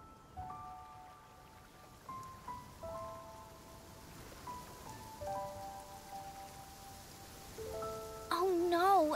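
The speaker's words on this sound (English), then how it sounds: "Oh no, it's raining." Rain patters steadily in a video game, a soft hiss of drops under a gentle tune of sustained tones, swelling louder at the end.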